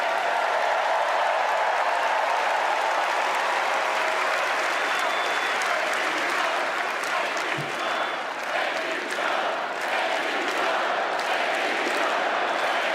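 A large convention crowd at the Democratic National Convention applauds continuously, a thick, even wash of clapping that holds steady and full for the whole stretch.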